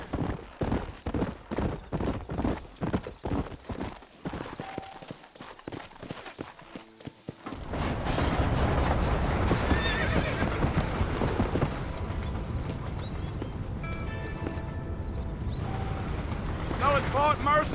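Horse hooves clip-clop in a steady rhythm in the Red Dead Redemption video game, then give way to a louder, denser bed of hoof and ambient noise with a brief whinny-like tone, under intermittent talk.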